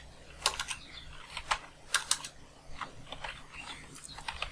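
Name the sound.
typing on a computer keyboard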